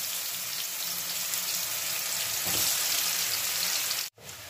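Cumin and chopped onion hit hot mustard oil with a broad, hissing sizzle that swells slightly midway, steady and close, before cutting off abruptly near the end.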